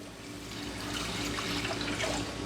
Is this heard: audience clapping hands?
no